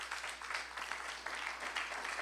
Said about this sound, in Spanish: Denle una ofrenda de palmas al Señor.